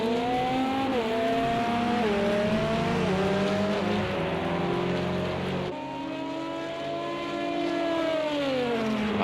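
Race cars in a sim racing endurance event at Monza scream past with high revving engines, overlapping whines rising and falling as they sweep by and brake, loud and continuous.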